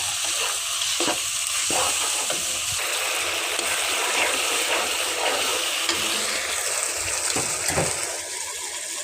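Spices for a rohu fish curry sizzle and fry in a pan, a steady, fairly loud crackling hiss with a few soft stirring knocks throughout, no voices.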